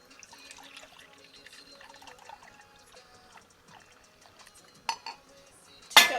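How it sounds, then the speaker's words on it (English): Two cups of milk measured out by pouring, with quiet trickling and light clinks of kitchenware, ending in a couple of louder clattering bursts. "I'm going to measure out 2 cups of milk."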